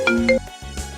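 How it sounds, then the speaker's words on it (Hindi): A mobile phone rings with a short bright electronic melody of a few quick tones, an incoming call in a family home. "अरे किसका फोन आ रहा है?"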